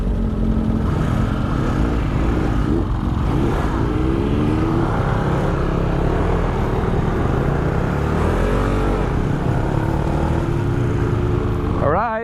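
A motorcycle engine runs loudly and continuously on a night ride, its pitch rising and falling with throttle changes, heard close up under wind noise and a rider's speech.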